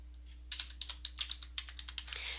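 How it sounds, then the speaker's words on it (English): Quiet typing on a computer keyboard while filling in form fields, a rapid irregular run of light key clicks, close and isolated, with a steady low hum underneath. "I'm typing in the field and then tab, tab, tab with my finger"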